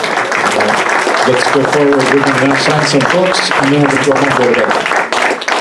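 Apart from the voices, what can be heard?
audience applause for Paul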